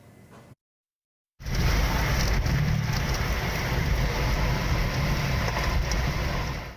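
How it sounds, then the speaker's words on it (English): A violent storm with intense hail sweeps across countryside southwest of Glencoe, a loud, steady roar of pounding rain or hail that starts abruptly after a brief gap and continues without letup. "A violent storm cuts through the countryside southwest of Glencoe. It's picking up debris and producing intense hail."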